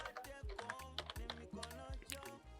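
Rapid typing on a computer keyboard while entering text in Photoshop: a close, steady run of light key clicks with a few heavier strokes, no voices.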